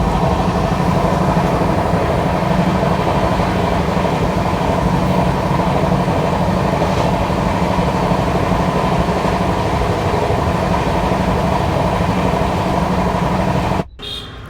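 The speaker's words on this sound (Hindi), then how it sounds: "ये है भोपाल से चल के प्रतापगढ़ की ओर जाने वाली एक ट्राई वीकली ट्रेन" Steady, loud rumble of the Tejas Express passenger train running on rails from Bhopal toward Pratapgarh, a continuous rolling roar with no talk, cut off briefly by a sharp break near the end.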